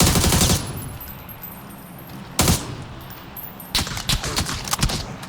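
Bursts of rapid automatic gunfire in the video game PUBG, one at the start, a short sharp volley midway, then a longer crackling stretch of shots, with quieter background between.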